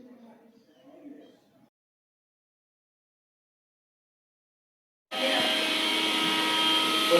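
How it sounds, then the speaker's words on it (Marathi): A kitchen mixer grinder starts up after a brief silence and runs with a loud, steady whirring roar, preceded by a few seconds of quiet talk. "हा जो आवाज होता तो मिक्सरचा आवाज होता।"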